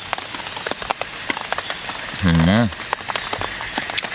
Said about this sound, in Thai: คืนนี้ ฝน ตกทั้งคืน แน่ ๆ นะเพื่อน